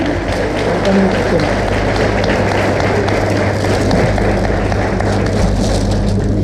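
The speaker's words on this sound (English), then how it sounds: "Give a big round of applause" An audience at a teachers' gathering in Salmiya, Kuwait, claps in a steady, moderately loud round over a low background hum, with some voices mixed in.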